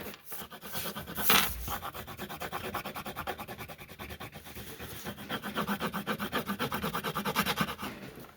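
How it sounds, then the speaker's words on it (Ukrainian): Colored pencils scratch steadily across paper while a child-style pizza drawing is filled in, a continuous close, rhythmic rubbing with quick back-and-forth strokes and one brief louder knock near the start. "І розфарбовую все полностью."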